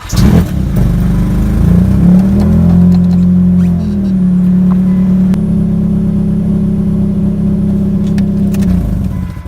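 A failing car with a suspected bad crank sensor cranks and starts, then settles into a loud, close, rough idle with a low droning hum and slight unevenness.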